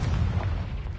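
A Confringo fire spell explodes in the Hogwarts Legacy video game, giving one loud, close, rumbling boom that fills the whole moment.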